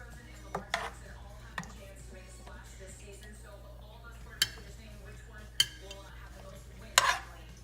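Tomato meat sauce is spread across the bottom of a crockpot with soft scraping and several sharp clinks of a utensil on the pot, while a voice talks quietly now and then.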